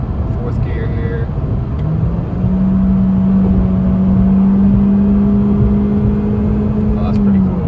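The engine of a 2020 Honda Civic Sport revs in sport mode as it holds fourth gear, a steady droning tone that climbs slowly and stays loud from inside the cabin.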